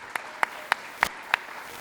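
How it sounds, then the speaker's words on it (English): At an AI meetup in Birmingham, five separate handclaps ring out at an even pace over a soft room hiss. They are fairly faint and thin, as though from a few listeners. "Can we give another round of applause for Chaz and UKG?"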